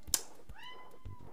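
A cat in a retro role-playing game gives a single bright, rising-then-falling meow, clear and fairly close, set between soft clicks and brief ambient noises.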